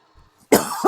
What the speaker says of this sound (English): I felt that cough coming, and I didn't want to do that